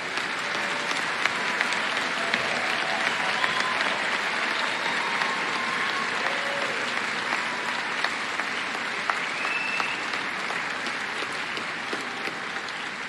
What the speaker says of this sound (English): It's a raucous crowd.